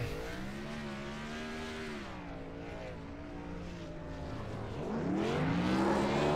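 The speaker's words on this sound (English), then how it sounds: "You hear him start to rev it up." A racing truck engine revs on an oval track during a live race, a distant droning whine that rises and falls, then climbs louder and higher near the end, heard alone without talk.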